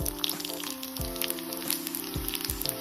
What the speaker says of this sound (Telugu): ఇప్పుడు ఇదే ఆయిల్లో జీలకర్ర 1 స్పూను, ఆవాలు 1 స్పూను, ధనియాలు 1 స్పూను, మెంతులు చిటికెడు వేసేసుకోవాలి